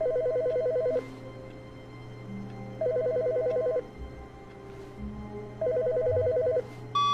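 An office desk telephone rings in the video game The Stanley Parable, three loud electronic trills spaced a few seconds apart over a low steady hum, with no talk.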